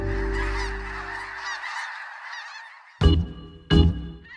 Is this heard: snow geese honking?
yes